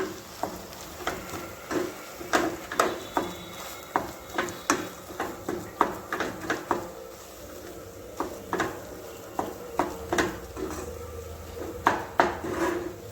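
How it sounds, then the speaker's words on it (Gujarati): A spoon scrapes and clinks steadily against a bowl while garlic paste and lemon juice are stirred together, a close, rhythmic series of knocks and scrapes with no talking. "લસણની પેસ્ટ ઉમેરીએ, થોડોક લીંબુનો રસ ઉમેરીએ અને બધું સરખી રીતે મિક્સ કરીએ।"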